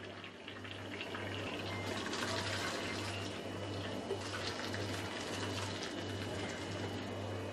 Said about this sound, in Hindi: मैंने यहाँ पे एक बर्तन ले लिया है, उसके ऊपर छन्नी रख दिया है, उसका सारा का सारा पानी इस तरीके से निकाल देंगे हम।